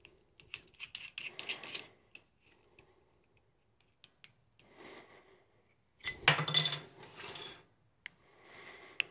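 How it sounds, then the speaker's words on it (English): Small screws go back into a DIY FET microphone PCB, with light metallic clicks, scrapes and taps in scattered bursts and a louder rattling cluster near the end, no talking. "Putting the screws back."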